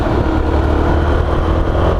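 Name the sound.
motorcycle engine idling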